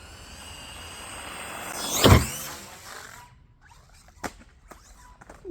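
A motor whines and swells to a loud peak, then cuts out, followed by a few sharp clattering knocks of a Traxxas Mini XRT RC car hitting the ground hard after a ramp jump.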